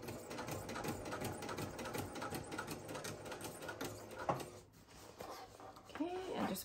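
A sewing machine stitches slowly through thick layers of a tote bag, its needle tapping in a quick, faint, steady rhythm under a person's speech.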